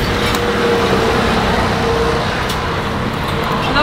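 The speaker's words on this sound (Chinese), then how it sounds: "因为很多车，这边车流量超大" Dense, loud, continuous roar of cars, buses and trucks on a busy main road, close by and unbroken, with a faint horn-like tone rising briefly.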